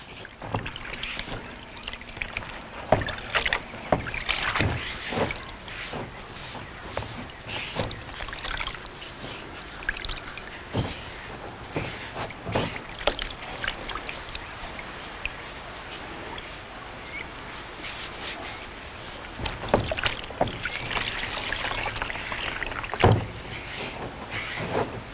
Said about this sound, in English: submerge our filter and try to work out all the dirt like so